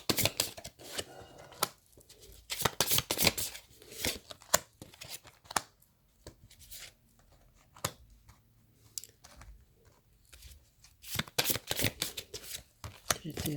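Tarot cards are shuffled in close, quick bursts of riffling and slapping that start and stop, with quiet stretches between them and some talking around them.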